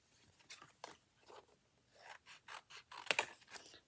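Scissors snip through plastic packaging from a diamond art kit unboxing. A quiet series of short, crisp cuts comes close to the microphone with brief pauses between strokes.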